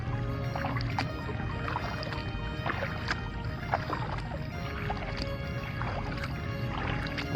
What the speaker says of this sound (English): This large kayak paddle is just going to be too tight to use it.